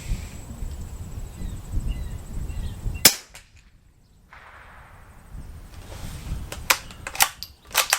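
Sharp, loud gunshots ring out at an outdoor shooting range with small round targets: one crack, a short quiet stretch, then a quicker cluster of reports near the end.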